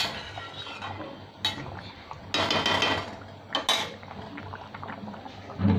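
Lid set down on a pot of shukto, a Bengali vegetable curry with milk and bori, as it simmers on a gas stove; several sharp metallic clanks ring out over a steady bubbling hiss.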